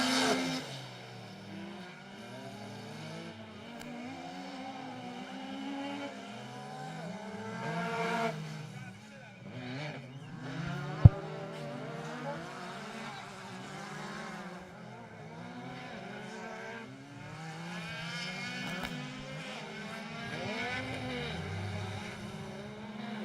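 Side-by-side off-road racing vehicles, one with a 120 horsepower engine, whine and rev at a distance during a race, their engine pitches rising and falling and overlapping, with a voice speaking over them.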